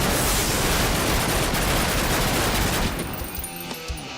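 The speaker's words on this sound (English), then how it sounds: "Throwing grenade!" In the video game Almost Alive, a grenade explosion and a burst of gunfire form a loud, dense blast that rolls on for a few seconds, then thins into a fading tail.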